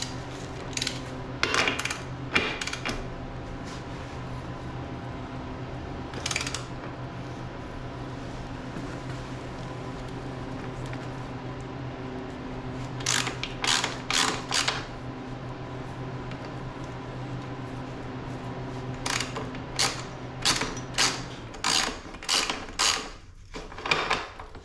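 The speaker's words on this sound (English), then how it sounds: "First step, loosen the axle nut." A ratchet loosens the rear axle nut on a 2012 Suzuki RMZ250 dirt bike, giving scattered bursts of quick, close metallic clicks separated by quiet pauses, with faint clinks of tools in between.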